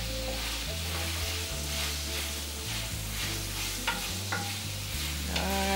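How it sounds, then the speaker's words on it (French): Food frying in oil in a pan while being stirred, a steady close sizzle with spoon scrapes and clinks running throughout, no talking. "Je vais mélanger un peu pour la friture."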